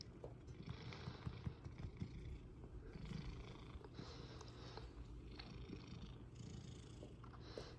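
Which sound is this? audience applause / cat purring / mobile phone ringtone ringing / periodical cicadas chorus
cat purring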